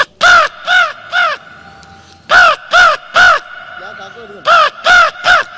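A person's voice imitates crow caws to call crows, producing three groups of two or three loud, nasal caws with short pauses between groups, close and clear.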